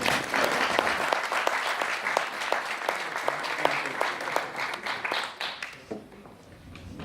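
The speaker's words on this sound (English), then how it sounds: "Can we give them a round of applause?" An audience welcomes visiting Palestinian farmers with a round of applause, lively many-handed clapping with some sharp individual claps standing out, thinning and tapering off near the end.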